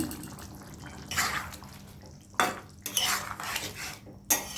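A spoon clanks and scrapes inside a pot in a few short, separate bursts as roasted coriander-cumin powder is stirred into a thin shing fish curry, with quiet pauses in between.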